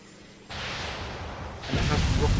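A UH-1Y helicopter in the Arma 2 video game spins its rotor up, a broadband whooshing roar that starts abruptly and then swells louder in a second stage, with no talk over it.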